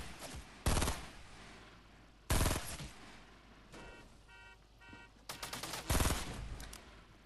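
Gunfire in the battle royale video game Fortnite: several loud, sharp bursts of rapid shots separated by short pauses, with quieter clatter and tones between the volleys.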